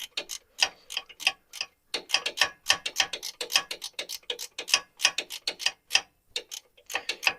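A small ratchet cranks a bolt in tiny strokes, making rapid bursts of crisp, close clicks in a steady back-and-forth rhythm with brief pauses between strokes.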